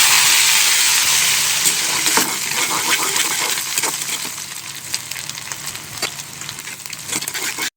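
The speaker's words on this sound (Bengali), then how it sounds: "চিংড়ি মাছ এবং একটি মরিচ দিয়ে ওই তেলে ভেজে নিয়ে" Shrimp and a single chili sizzle loudly in hot oil with bay leaf and cumin, a dense close frying hiss that gradually settles into scattered crackles and pops.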